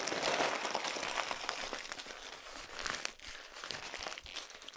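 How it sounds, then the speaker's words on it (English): A fast food wrapper from a McDonald's meal is crumpled by hand, giving a loud, close run of dense crinkling and crackling that fills the whole stretch without pause. "And then when you're done, just crumple it up."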